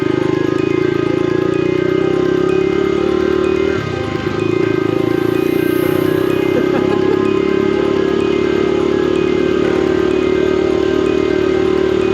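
A Honda CT90 motorcycle engine runs steadily up close, a loud continuous drone with a brief dip in the rumble partway through, then resuming its even, throaty idle without any talk.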